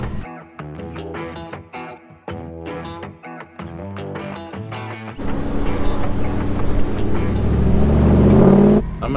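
A 4x4 truck driven in two-wheel drive on a digging-rough site: after a stretch of rhythmic music, a loud, dense engine roar takes over and swells steadily louder toward the end, close by and with no talk.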